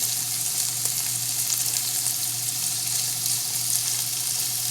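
Beef for bukhari sizzles and fries steadily in hot cooking oil, a continuous close crackling hiss with a low hum beneath and no talking.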